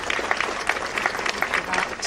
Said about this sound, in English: we've got a minute's applause now for Lexi